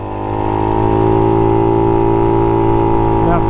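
A Honda Ruckus scooter with a fuel-injected 171cc GY6 engine cruises slowly, its steady mid-pitched drone holding even and close after a brief swell at the start, with no voices.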